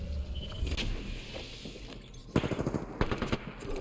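Gunfire from the video game Apex Legends in ranked play, with a loud burst of rapid automatic shots in the second half, followed by further quick volleys.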